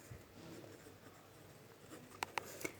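Pen or chalk writing out a geometry proof, a soft scratchy patter of strokes ending in a few sharp taps, quiet and close with no talk.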